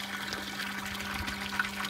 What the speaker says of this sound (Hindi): यहाँ पर आता रहता पानी।